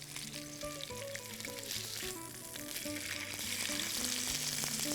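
Salmon sears skin side down in a fry pan, a steady crackling sizzle with soft scraping and clinks of utensils that grows slightly louder toward the end, with no speech.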